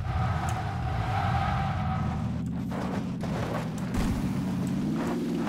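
A small, weak vehicle engine in the game PUBG drones steadily and loudly, its pitch rising and falling slightly as it drives, with no speech over it.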